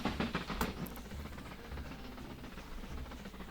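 A locomotive rumbles along steadily in the train-building game Mashinky on the Death Valley map, a faint continuous rolling drone with light rhythmic clatter, strongest at the start and then settling into an even hum.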